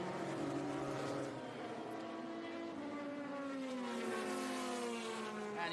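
A 2011 Porsche 997 GT3 Cup race car runs on track at a historic motorsports reunion, with a sustained high engine howl whose pitch shifts gradually as it passes, steady and fairly distant, no talk.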